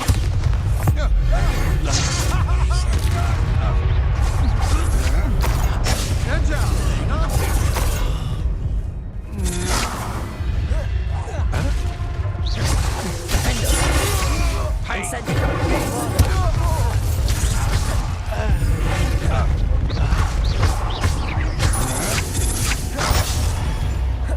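A Bombarda explosion spell goes off in Hogwarts Legacy, with heavy booms and shattering crashes in dense, loud game combat sound that never lets up.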